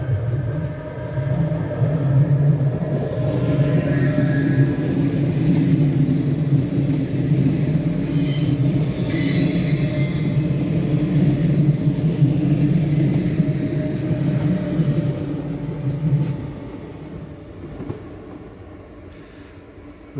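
A train pulls out of Toses station and runs into the south portal of the Toses tunnel, a steady close rumble with wheel noise that holds for most of the clip and then fades slightly near the end.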